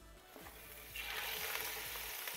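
Goulash meat searing in a Petromax FT9 Dutch oven, a steady close sizzle that swells louder about a second in and holds as a continuous hiss with soft stirring scrapes.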